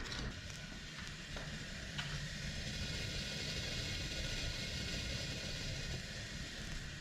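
About 40 liters of maple sap boiling down into syrup at a maple syrup festival: a steady, dense bubbling roar continues throughout, close and even, with no talk.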